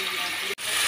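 Grated bottle gourd frying in hot ghee, a steady close sizzle that cuts out for a split second and then resumes.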